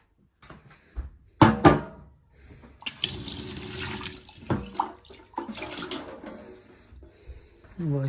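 Tap water runs into a kitchen sink for washing, in uneven bursts mixed with clatter of a lid and cupboard knocks, loud at moments and close by.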